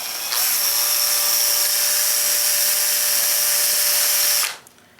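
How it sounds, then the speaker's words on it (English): A power drill with a 1/16 inch bit whines steadily at high pitch for about four seconds, drilling through a roll pin, then cuts off and spins down, with no talking. "Take your 1/16 inch drill bit and drill right through the middle of that pin."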